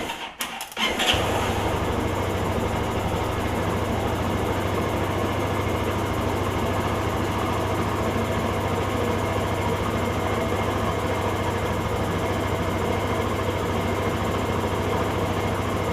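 A Kymco Grandvista scooter that has been sitting a while starts up with a brief rattling catch, then settles into a steady, close, even idle that drones on unchanged without talk.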